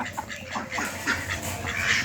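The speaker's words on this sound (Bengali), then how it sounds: "বিকাল হলে হাঁস এসে বাড়িতে" Ducks head home in the evening near a village pond, their quacking calls rising and overlapping in a steady, moderately loud stream with no talk.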